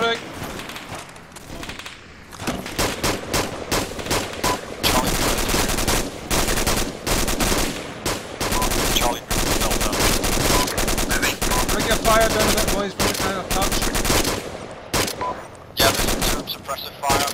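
Machine gun fire during airborne platoon training, dense bursts of automatic gunfire and overlapping shots going almost continuously at close range, with shouted commands breaking through the loud volleys.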